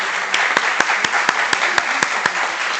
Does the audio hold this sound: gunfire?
no